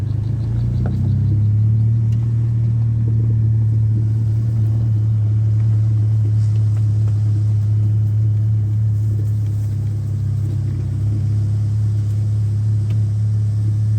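Car engine rumbling steadily as it drives along a track between shrimp ponds, a constant low drone with a slight rise early on, no talking.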